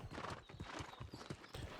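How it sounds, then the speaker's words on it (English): Hooves clip-clop steadily on the ground in the New World Aeternum video game as a horse passes close by, the quick rhythmic strikes mixed with soft background game ambience. "Stepped out in front of a horse."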